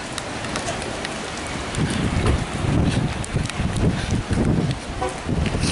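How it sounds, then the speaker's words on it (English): Rain falls steadily outside as a dense, broadband hiss, mixed with buffeting wind noise on the microphone that grows louder partway through. "Oh, it's raining."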